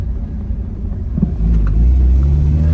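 An Acura RSX with a K24 engine accelerating hard in first gear, its deep engine rumble swelling and rising in loudness over a few seconds, heard from inside the car.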